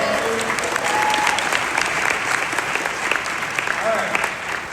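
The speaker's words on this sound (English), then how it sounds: "Can we give her a little round of applause?" An audience at a live real estate training event claps steadily for several seconds, a dense burst of applause from a crowd filling the room.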